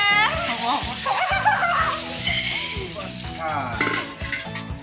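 Fish sizzles as it fries in a pan in a home kitchen, a steady crackle and spatter heard close beneath people talking, including a voice.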